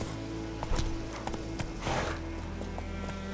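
Geralt's horse Roach galloping in The Witcher 3, rhythmic hoof clip-clops over a steady game background with a short whoosh of movement midway, no talking.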